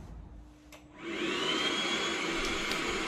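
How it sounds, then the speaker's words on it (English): A Milwaukee vacuum attached to a sander spins up after a quiet moment and settles into a steady, loud, close whine and rush while dust is extracted from filler on a Peugeot J9 van. "So if I just catch some of the dust within the Hoover there, and it's worked a treat"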